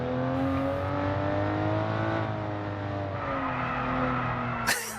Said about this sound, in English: Listen to the tyres squealing.